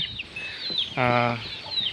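Several native village chickens cluck close by, with one loud harmonic squawk in the middle and softer clucks around it.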